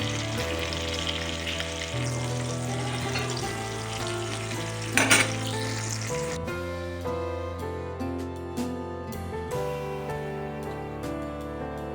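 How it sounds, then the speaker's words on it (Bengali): Puti fish fry in oil alongside bata fish in a pan, a dense, steady sizzle heard close, with a brief louder spatter midway and background music playing throughout. "এবার এই বাটা মাছের সঙ্গে আমি পুঁটি মাছগুলো ভেজে"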